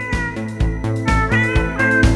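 A cat meows repeatedly in a steady, almost rhythmic series of loud, close, tonal calls.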